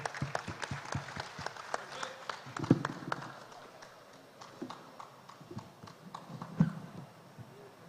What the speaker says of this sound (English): We can give her a big round of applause.